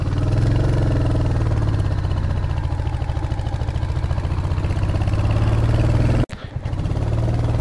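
Steady idling of a motorcycle engine on a mountain road, a low continuous throb heard close up, briefly cut off near the end before it resumes.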